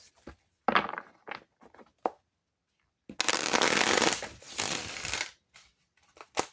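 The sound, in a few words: shuffling tarot cards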